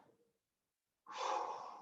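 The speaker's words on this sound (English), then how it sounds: "you can hear me breathing" A single sharp, close breath drawn in through the nose during a Pilates workout, following a brief faint exhale and a moment of silence.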